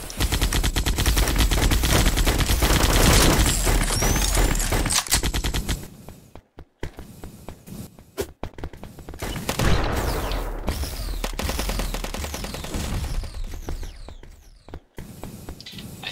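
Rapid automatic gunfire in the shooter video game ev.io rattles loud and continuous for about six seconds, then returns in further bursts after brief gaps.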